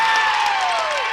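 Crowd in a high school boys varsity basketball gym cheering and clapping after a three-pointer, a brief dense burst of noise with a faint whistle-like tone.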